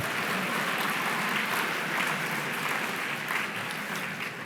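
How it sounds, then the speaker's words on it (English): Diners at a benefit dinner applaud, a soft, even patter of many hands clapping at a distance, steady throughout with no voices standing out. "Please clap."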